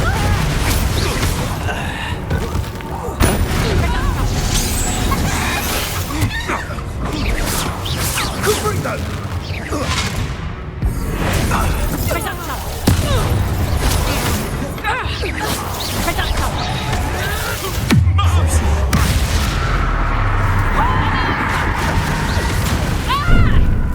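Bombarda spell explosions in the video game Hogwarts Legacy burst in a chaotic fight, heavy booms, crashes and whooshes repeating over about twenty seconds while voices shout spells.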